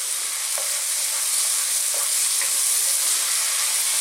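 Fresh sliced white mushrooms fry in a pan over medium heat for an Indian chicken and mushroom curry, giving a steady close sizzle with a few soft clicks as they are stirred. No one speaks.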